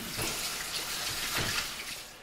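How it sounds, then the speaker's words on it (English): Tap water runs steadily over a brisket being rinsed before it is rubbed for smoking, a continuous close splashing hiss with no talk. "I'm just going to rinse this off"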